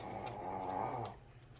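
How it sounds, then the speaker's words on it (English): A pet dog snorts close by indoors, a single rough, nasal, snore-like breath lasting about a second before fading into quiet. "Sorry, if you hear that, that's my dog. She snorts a lot."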